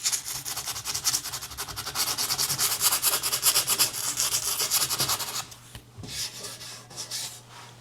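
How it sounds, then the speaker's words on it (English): Dried wood filler being sanded smooth with sandpaper, a steady close rasping scrub of rapid back-and-forth strokes for about five seconds, then a brief pause and a few softer rubs. "We're just gonna take a little bit of sandpaper and just smooth it out a bit."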